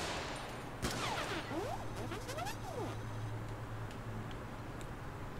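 Gunfire from aimed shots in the video game Helldivers, a sharp blast followed by sweeping, whistling electronic tones and a steady low hum, moderately loud and without speech.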